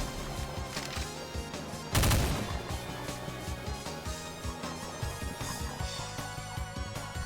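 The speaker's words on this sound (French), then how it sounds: "c'est un petit mini lance-roquette mais très énervé" In the video game Doom II, a small but fierce rocket launcher fires amid dense, busy game audio, with a sharp loud blast near two seconds and continuing explosive thuds and music throughout.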